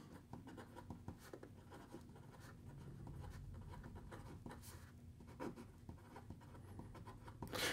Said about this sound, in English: So here we go with the writing sample for the Kaweco Sport